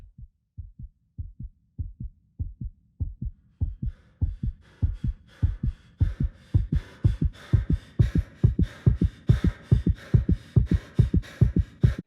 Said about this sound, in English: when the astronaut loses health, heartbeat and breathing sounds become heavier